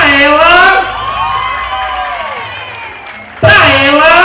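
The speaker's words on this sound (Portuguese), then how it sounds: "Palmas pra ela!" A studio audience at an anniversary price show breaks into loud, close applause and cheering, while a voice talks over it and rises again near the end.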